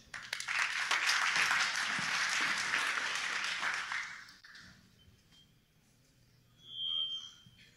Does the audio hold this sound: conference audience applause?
yes